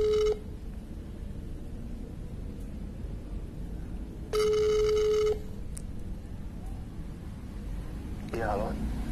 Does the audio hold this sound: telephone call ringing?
yes